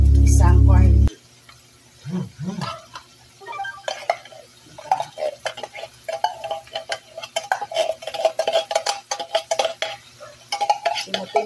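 A utensil repeatedly scrapes and taps against a can and pan as corned beef is emptied into the pan for ginisang corned beef, with rapid metallic scraping under light sizzling.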